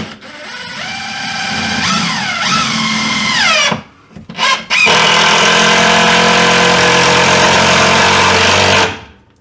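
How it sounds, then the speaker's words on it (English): A power drill drives two screws into drywall at the top of a wall during a wall-dip repair, with a loud whining motor that rises and falls in pitch, a brief pause, then a steady sustained run. "I want to put 2 screws right here at the very top, just so when I try to push the center in some, I don't bust the drywall off the other side"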